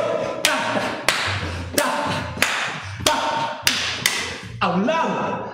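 Hands clap sharply about once every 0.65 seconds during a yoga and balance exercise class, with six clear claps over a low steady background and a voice faintly underneath.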